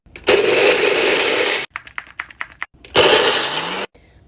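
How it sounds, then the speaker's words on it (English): A countertop blender whirs hard on frozen blueberries and milk in two loud bursts, split by a run of short stuttering pulses. It ends with a quieter tail. "Time to blend."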